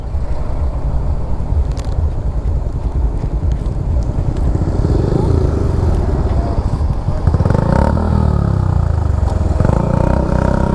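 A motorcycle engine runs steadily up close with traffic clatter, the pitch rising as it revs near the end.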